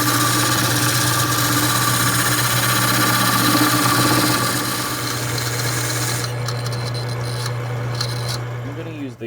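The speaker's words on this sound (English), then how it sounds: "I'm going to use the gouge to form our curves going in the wood." A wood lathe hums steadily with a constant low motor tone while a gouge rasps and scrapes against spinning wood, shaping a pan handle, easing off near the end.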